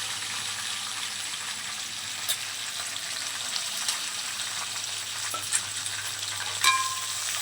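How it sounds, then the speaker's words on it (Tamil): Chicken frying in hot oil with mustard seeds and dried chillies, a steady close hiss of sizzling with a few faint stirring knocks and pops. "எண்ணெய் ஊற்றி கடுகு போட்டு காஞ்ச மிளகாய் கிள்ளி போட்டு நல்லா பொரிஞ்சதும் சிக்கன் போட்டிருக்கேன்"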